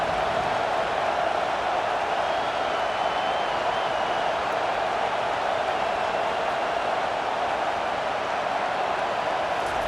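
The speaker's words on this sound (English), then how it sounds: "this big crowd doing everything possible to inspire this defense down here near the goal line" Large stadium crowd roaring in EA Sports College Football 25, near the goal line on a third down, a dense, steady wall of cheering and noise that holds at full loudness for about ten seconds with no break.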